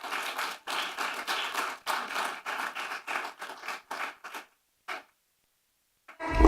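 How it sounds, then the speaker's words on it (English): Applause from a small audience welcoming a speaker, a short burst of clapping in rhythmic bunches that thins to a few last claps and then silence. "Please join me in giving a warm round of applause to Tessandra Alberdi."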